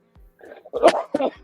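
A single sneeze from a person on a gossip talk show, a short sharp burst preceded by a quick breathy intake, close and loud, alone without talk over it.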